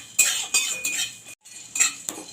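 Dry spices, dried red chillies, cloves, cardamom and cinnamon, being fried and stirred in a pan, heard as a rhythmic run of close metallic spatula scrapes with a short pause midway.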